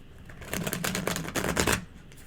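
A deck of Light Seers Tarot cards is shuffled by hand, a quick run of crisp riffling flutters that swells and stops after about a second and a half, close and fairly quiet.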